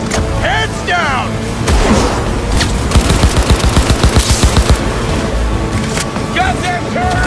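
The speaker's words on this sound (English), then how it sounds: "Goddamn turret!" Rapid automatic turret fire in the cyberpunk shooter Cyberpunk 2077, a tight burst of evenly spaced shots roughly mid-clip amid game effects, rumble and electronic chirps, with people talking over it.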